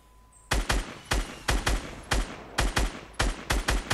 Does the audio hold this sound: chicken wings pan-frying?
no